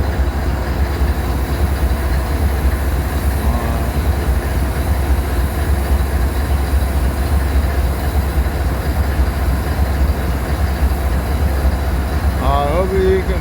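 A BNSF locomotive and train roll along the tracks with a loud, continuous low rumble and steady rattling of the cars throughout, and a voice speaks over it.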